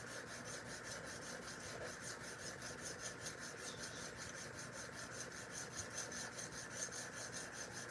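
A Kubey D2 steel knife is sharpened along its secondary edge bevel with steady, rhythmic rasping strokes against a sharpening surface, close and fairly quiet, continuing without pause and with no talking.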